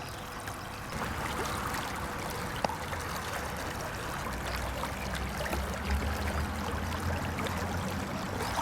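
Clear mountain water flows and trickles steadily along a stream in Azaibah wadi near Muscat, a continuous moderate babbling heard close by with a faint low rumble underneath.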